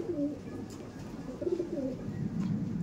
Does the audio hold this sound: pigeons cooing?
yes